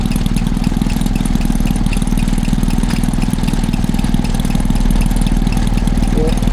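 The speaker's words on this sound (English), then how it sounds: "there's a Tom Senior 1/2 horsepower superior petrol engine for a lighting set" Small Tom Senior 1/2 horsepower Superior petrol engine driving a lighting set at a Sussex country show, running with a steady, loud, even chugging throughout.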